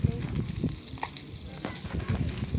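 Crackling fire burning in the Minecraft video game, a soft steady sizzle with faint pops, with some background noise.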